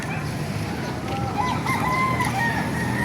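Several roosters crow and chickens cluck over a busy background hum at a poultry market in Baliuag, Bulacan, Philippines, with calls overlapping at moderate distance.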